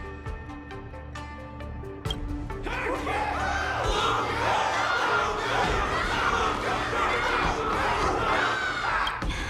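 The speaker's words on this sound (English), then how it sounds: "Can't you hear? Everyone's cheering for you, Luca!" A loud crowd cheers in the Honkai: Star Rail video game after a battle, swelling into a dense, sustained roar of many voices after a quieter opening few seconds.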